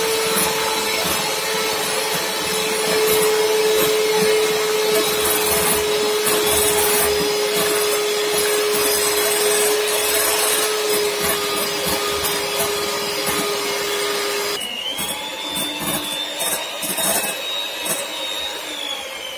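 An electric hand mixer whips cream in a bowl for a Yule log roll cake, a steady close motor whine that holds one pitch, then abruptly jumps to a higher speed near the end and keeps running alone.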